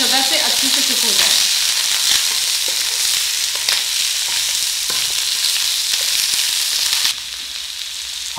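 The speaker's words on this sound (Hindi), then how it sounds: "So keep flipping it, keep सॉटेइंग it ताकि वो हर तरीके से हर जगह से अच्छे से कुक हो जाए।" Chicken pieces sautéing in a hot pan for a curry, a loud continuous sizzle and crackle with occasional stirring scrapes, close and steady throughout, easing slightly near the end.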